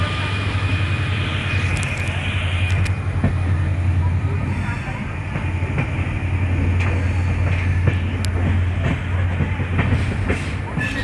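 A WDP4D diesel locomotive hauls an intercity train into Bhagat Ki Kothi on Indian Railways. A deep steady engine drone runs under continuous wheel rumble and rail clatter, loud and close, with occasional sharp clacks.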